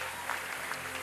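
Congregation clapping during a nighttime church worship service, a steady wash of hands applauding throughout the short moment at a moderate, even level, with no clear voices.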